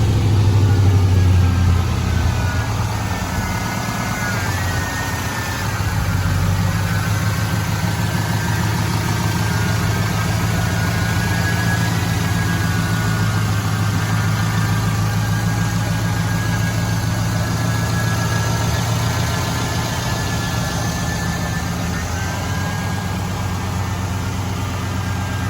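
A 1971 Chevrolet Chevelle pro touring car with a fuel-injected 6.0 LS V8 idles loudly and steadily, its deep exhaust rumble close and continuous throughout, with no talking.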